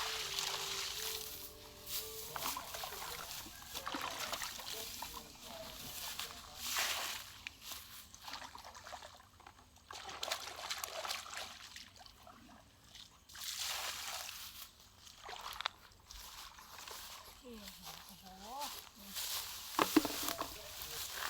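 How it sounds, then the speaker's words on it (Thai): Water flows and sloshes in a rice paddy field in Thailand while apple snails are gathered, with intermittent splashes and trickling close by and some faint voices. "ในทุ่งนานะครับตรงน้ำไหลครับ"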